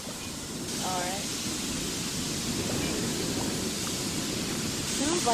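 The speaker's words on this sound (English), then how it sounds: "Sounds like the radiator is broken." A broken radiator in the Nancy Drew game Treasure in a Royal Tower gives off a continuous broad hiss that holds steady throughout, with a few faint chirps over it.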